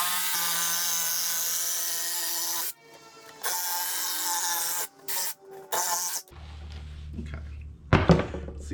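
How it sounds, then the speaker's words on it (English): A jigsaw trims the opening for a storage hatch on a jon boat: a loud sustained buzzing cut that breaks off, restarts in short bursts, then gives way to scraping and a few thumps. "we just gotta do a little bit of trimming with the jigsaw"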